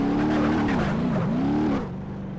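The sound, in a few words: car driving on beach in BeamNG Drive video game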